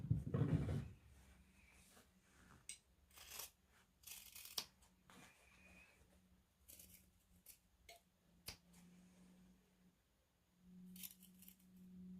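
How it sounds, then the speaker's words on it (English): Scissors cut along lines through folded fabric for a tote bag, a sparse series of quiet snips and rustles at close range with pauses between cuts. "I'm just going to fold mine in half to make the first cut. And we're going to cut all of these lines."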